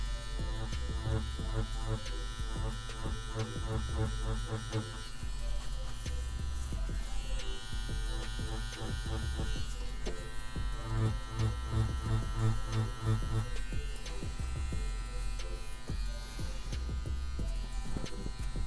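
A CNC CW2 wireless tattoo machine buzzes steadily and close up, a continuous electric hum running through the whole stretch with slight pulsing changes in tone.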